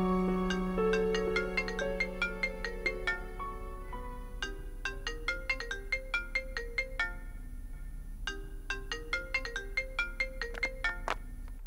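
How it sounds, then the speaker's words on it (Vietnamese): A mobile phone ringtone plays a bright, repeating melodic tune, loud and close, for about twelve seconds with no speech over it, in a Vietnamese family drama scene. "Sao không nghe điện thoại của người ta đi?"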